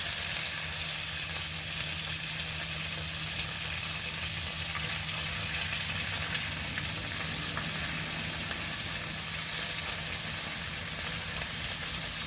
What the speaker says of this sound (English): Let's check on the bacon and give them their first flip.